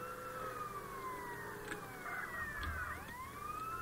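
Police car siren in the video game GTA San Andreas, wailing continuously with sweeping pitch rises and falls throughout, steady and fairly loud over faint background engine rumble.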